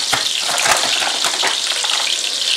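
Plain flour stirred into a generous amount of hot, browned butter to make a roux for a shellfish bisque, a dense, bright, steady sizzle with faint stirring ticks, close up and uninterrupted.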